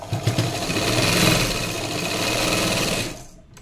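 A sewing machine stitches a padded blouse, its needle motor running in a steady fast whir for about three seconds before stopping, close and alone.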